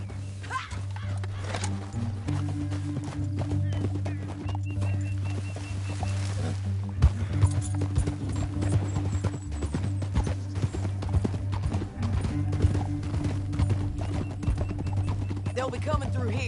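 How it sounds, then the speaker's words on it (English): Horses gallop in the Red Dead Redemption 2 video game, a steady rapid clatter of hooves on hard ground running throughout under a low droning musical score, with voices talking. "Back on your horse. Let's get after them."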